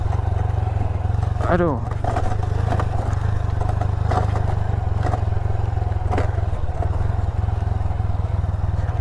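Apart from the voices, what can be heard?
motorcycle riding on rough road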